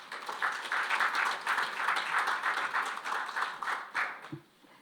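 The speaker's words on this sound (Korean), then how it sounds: "박수 부탁드리겠습니다." An audience claps steadily at a National Assembly public hearing on an education development zone bill, a moderate wash of applause that fades out near the end, followed by a brief low thump.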